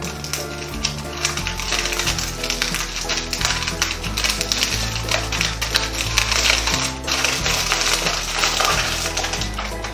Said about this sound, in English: add some aluminum foil, I'll scrunch it up to try to get a cookie design